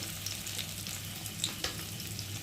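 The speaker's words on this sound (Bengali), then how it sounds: "পেঁয়াজটা একটু লাল লাল করে ভেজে নেব।" Chopped onion fries in hot oil in a pan, a steady, soft sizzle with a few light stirring clicks scattered through it, close and without voices.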